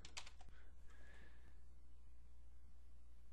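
A short burst of quick computer-keyboard keystrokes up front, then a sustained tone and quiet room hiss with no talking.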